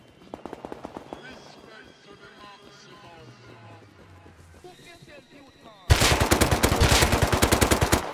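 Gunfire in the video game Rust: a few sharp early shots, then a loud sustained burst of rapid automatic fire near the end, with players talking over the fight.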